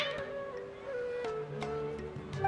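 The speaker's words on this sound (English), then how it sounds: "Your cats seem pretty worked up." Cats meowing in the video game Genshin Impact, several short plaintive meows repeating at a moderate level over a soft background hum, without talk.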